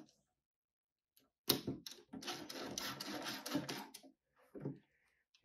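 Screws are driven into the side panel of an Acer Aspire desktop PC, giving a burst of close, scratchy ratcheting and clicking lasting a couple of seconds, with a shorter scrape afterward in otherwise quiet surroundings.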